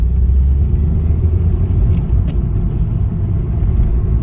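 A Honda Accord with a past low fuel rail pressure fault drives along, its steady engine and road rumble heard from inside the car at constant loudness, with no talk.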